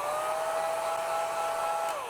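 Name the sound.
hair dryer drying a watercolor painting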